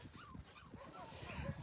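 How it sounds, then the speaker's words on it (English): A puppy cries in thin, high, wavering whimpers and short yips, faint and close, with a little voice mixed in. "This puppy who is crying on the other side is crying because she wants to be with me."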